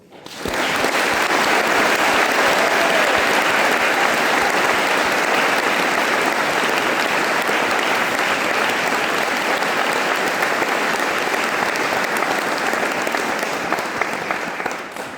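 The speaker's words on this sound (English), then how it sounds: "Please join me in giving these graduates a warm round of applause." A large crowd at a graduation ceremony applauds continuously, a dense wash of clapping that holds steady for the whole stretch before easing slightly near the end.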